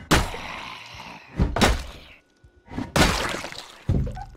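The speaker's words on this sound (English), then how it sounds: "Insert seven bullets." Bullets being inserted into a magazine in the video game Project Zomboid, a series of loud, abrupt clacking thunks in uneven succession with brief quiet gaps between.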